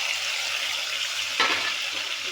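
Dry red chillies, onions, curry leaves and tomato fry for a Kadapa-style Rayalaseema fish curry, a steady bright sizzle with a brief stirring scrape in the middle.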